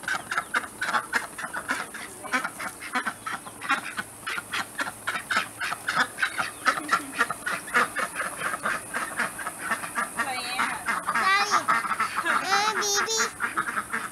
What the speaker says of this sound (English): The ducks are still scared of us.